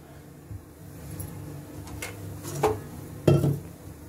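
A heavy-bottomed metal pan clanks down onto a stovetop, with a couple of sharp knocks and clinks amid quiet kitchen noise.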